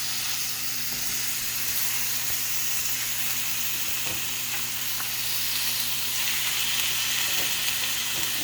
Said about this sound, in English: And we're gonna fry that all up.